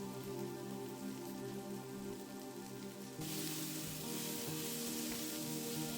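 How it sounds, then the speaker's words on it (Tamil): Onion, green chili, ginger and garlic sautéing in a pan, a steady close sizzle that swells louder and brighter halfway through as the frying intensifies, with no talking. "வெங்காயம் பச்சை மிளகாய் மற்றது இஞ்சி உள்ளி எல்லாத்தையும் சேர்த்து நன்றாக வதக்க வேண்டும்"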